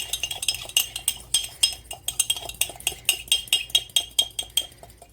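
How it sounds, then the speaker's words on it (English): A fork mixing egg yolk into chocolate chip cookie dough in a mug, a rapid, rhythmic series of close, bright clinks against the mug, steady and without talk. "we're going to take our egg yolk, pierce it with the fork,"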